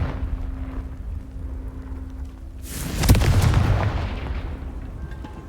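A Confringo blast spell exploding in Hogwarts Legacy: one loud, broad booming burst that rises over a steady background rumble and slowly fades, with no talk.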